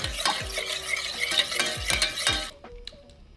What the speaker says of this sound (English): Stir, stir, stir.